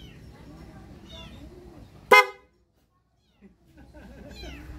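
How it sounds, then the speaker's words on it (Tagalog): A loud dual-contact horn on a vehicle gives one short, sharp blast mid-clip, standing out over quieter background murmur and chatter before falling to near silence. "Tutunog yung loud horn at the same time magi-blink yung ating mini driving light"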